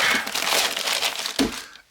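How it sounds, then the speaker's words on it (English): Cheap, crinkly recycled paper packing crackles and rustles close up while an OBD fault code reader is unboxed, with dense continuous crumpling and a sharper crunch near the end; no one talks. "that it's that crinkly, cheap recycled paper"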